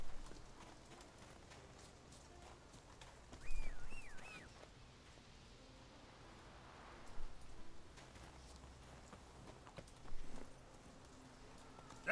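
Hooves of Roach, the horse in The Witcher 3, clip-clopping faintly in a few brief bursts against quiet game ambience, with no speech.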